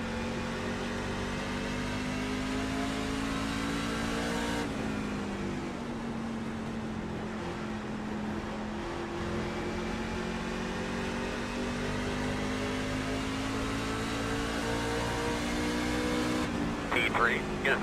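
NASCAR race cars lapping the Richmond oval, a steady droning engine roar that rises and falls as cars circle the track, heard at a distance beneath ongoing radio chatter.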